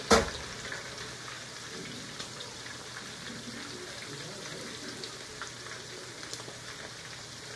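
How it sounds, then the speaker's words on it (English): Chicken fries in a pan with a steady, even sizzle that carries on throughout. A short clatter comes at the very start, and no one speaks. "And I'm going to finish frying the chicken."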